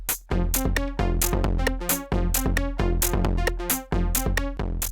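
A Korg Minilogue XD synthesizer patch of two slightly detuned oscillators plays a steady, rhythmic pattern of repeated bright notes over a deep bass pulse, loud and alone.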